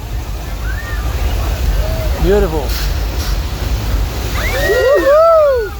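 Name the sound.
flash flood water effect on Universal Studios tram tour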